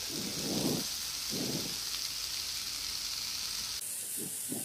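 Tomato sautéing with ginger-garlic paste in a pan for fish masala, a steady soft sizzle with a few rhythmic spoon scrapes against the pan, quiet and close, no speech.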